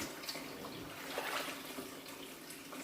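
Freshly harvested vegetables being washed in a basin of water, soft sloshing and gentle trickling, quiet and close.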